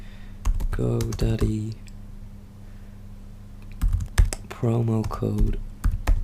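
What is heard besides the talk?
typing on a computer keyboard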